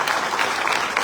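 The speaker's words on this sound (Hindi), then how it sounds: "जोरदार तालियां उनके लिए।" A crowd at a direct selling conclave claps loudly and densely, a close, continuous burst of applause with no voices over it.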